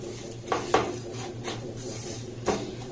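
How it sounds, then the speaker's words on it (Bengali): Semolina stirred and fried in ghee in a pan over a very low flame, giving soft scraping, rasping strokes of a spoon at an uneven pace over a faint background hum. "এই সুজিটাকে আমি ঘির মধ্যে দিয়ে দেব গ্যাসের ফ্লেমটাকে একদম লো রেখে এই সুজিটাকে একটু নাড়াচাড়া করে ভেজে নেব"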